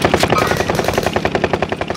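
Rapid automatic gunfire from a shooter video game, a fast unbroken stream of sharp, loud rhythmic bursts lasting the whole stretch, with no talk over it.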